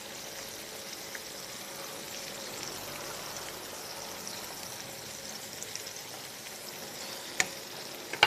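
Pieces of food frying in hot oil until golden brown give a continuous even sizzle with light crackles, then a brief sharp clink near the end, and no voices.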